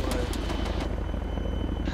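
A military helicopter in a video game spools up for takeoff, its rotor thumping in a fast, steady low pulse under a whining turbine, close and continuous for the whole moment.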